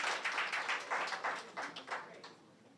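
Audience applause at a live tech event, a fairly quiet round of clapping from a crowd that swells briefly and then gradually fades out.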